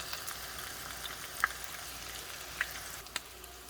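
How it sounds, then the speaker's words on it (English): Chicken tacos frying in oil in a pan, a quiet, even sizzle with a few small crackles and pops scattered across it. "So as you're frying your tacos"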